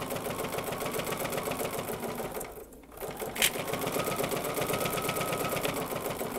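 A Bernina sewing machine stitches through a thick jelly roll fabric rug with a fast, steady mechanical whir, briefly pausing then resuming at the same pace, heard up close with no talk.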